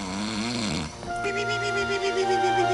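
Snoring in a movie: a loud, rumbling snore close up, followed by a steady droning tone with music-like sustained notes over it.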